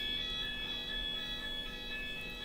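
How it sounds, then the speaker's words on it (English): A fire alarm rings as a steady, continuous high electronic tone, fairly faint and distant-sounding indoors, with no voices over it. "the fire alarm was my fault"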